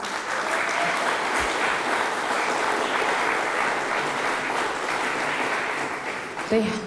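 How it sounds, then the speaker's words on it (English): Sustained audience applause fills a scholarship pageant hall, dense and steady throughout, with a brief bump near the end. "Let's give them one more final round of applause."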